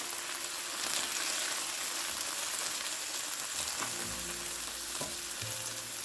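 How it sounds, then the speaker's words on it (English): Seared pears sizzle in a pan with apple cider vinegar, a loud continuous frying hiss heard up close, with a few soft knocks and shifts near the end as the pieces are turned. "I'm just going to flip these over just so these pears can absorb the flavor of this apple cider vinegar."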